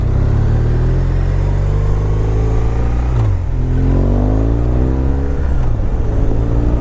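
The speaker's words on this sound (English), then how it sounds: "That exhaust sounds good." Loud, close exhaust of a BMW R1200R motorcycle rumbling and revving, pitch rising and falling through gear changes, steady throaty drone throughout with no voices.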